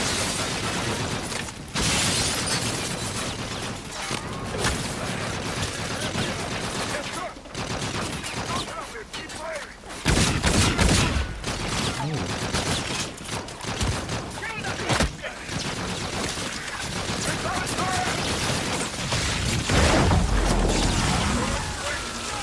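Sustained gunfire and explosions in the Call of Duty Infinite Warfare campaign, with dense, loud bursts of shooting running throughout and sharper blasts around the midpoint and near the end.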